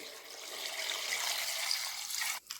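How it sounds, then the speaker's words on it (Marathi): Water poured from a vessel into a cooking pot to soak dried turmeric roots, a steady close splashing rush that runs almost unbroken, then cuts off abruptly near the end with a brief trickle after. "या पातेल्यात भरपूर पाणी घालून ते हा कुंड असेच भिजत ठेवायचे"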